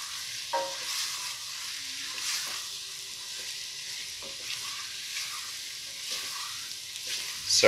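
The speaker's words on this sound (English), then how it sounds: "So I'm going to keep on stirring this and browning this off for the next 5 minutes" Beef browns in a pot for beef stew, giving a steady, close sizzle with soft scrapes of stirring throughout and a sharper clatter near the end.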